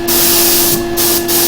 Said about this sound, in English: I'm just going to spray it now from this angle